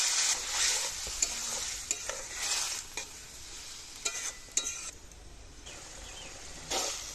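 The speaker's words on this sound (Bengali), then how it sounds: "এবার ডাল বাটা ও উচ্ছেগুলো ভালো করে একসঙ্গে ভেজে নেব।" Ground lentil paste and bitter gourd fry together in a pan for uchche ghonto, a moderate sizzle broken by repeated scraping strokes of a stirring spatula, close and without talk.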